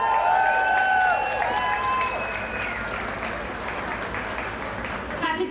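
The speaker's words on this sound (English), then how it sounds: "Let's give it up for our mayor, Mayor Michelle Wu." Crowd applauding and cheering at an outdoor Juneteenth block party, a loud, sustained wash of clapping that stays steady for several seconds, with whistles and voices mixed in.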